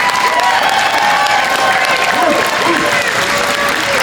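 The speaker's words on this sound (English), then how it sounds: "Give a round of applause for Tariq." Crowd at a reparations rally applauding, a dense sustained wash of clapping with some cheering, loud and steady, with a voice speaking over it.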